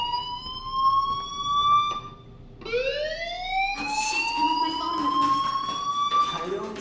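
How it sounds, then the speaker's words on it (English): Fire alarm in the video game Life is Strange, a loud electronic siren tone sweeping upward and holding in repeated cycles, close and continuous, with no talk over it. "do you hear that fire alarm? That means you should be outside."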